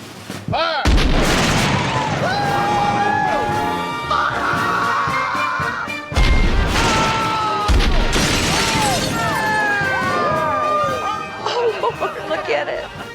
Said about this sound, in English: They pointed all the cannons at the house.